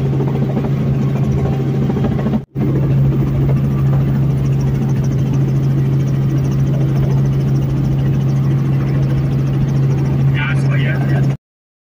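A helicopter engine drones in a loud, steady, low hum with a constant whine close by, broken by one brief cut, with faint voices beneath it.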